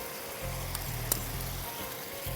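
Chicken mince dropped into hot ghee with saffron, giving a soft, steady sizzle and frying hiss close by, with a low hum under it and one sharp click midway.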